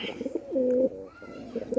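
A pigeon coos up close in soft, throaty bursts, a longer rolling coo in the middle, with faint rustling around it.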